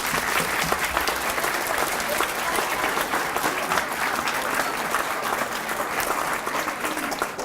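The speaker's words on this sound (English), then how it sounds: "Let's give our fifth graders one more round of applause." Sustained applause from a crowd at an elementary school D.A.R.E. graduation, steady dense clapping filling the whole stretch without pause.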